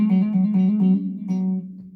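Guitar note played with repeated pull-offs, a close, clean string alternating between pitches in a quick rhythm before a final pluck rings out and fades, with no speech.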